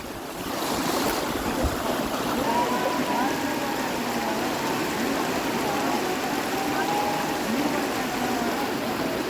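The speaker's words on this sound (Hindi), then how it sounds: "ये पूरा वाटरफॉल है." A waterfall near the Vasudhara glacier in the Himalaya roars as a close, loud and continuous broadband rush of falling water that never lets up.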